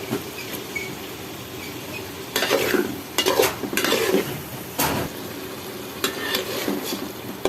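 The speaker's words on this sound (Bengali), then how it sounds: "এখন আমি এখানে চিংড়ি মাছগুলো দিয়ে দিব। একটু ভালো করে মশলাগুলোর সাথে কষিয়ে নেব।" Prawns stir-fried with spices in a pan for an ash gourd curry: a low steady sizzle runs underneath while a spatula scrapes and clatters in short bursts, close and moderately loud, with no talking.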